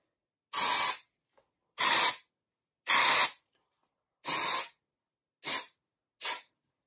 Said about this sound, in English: I'm just gonna go ahead and put in some dry shampoo in my hair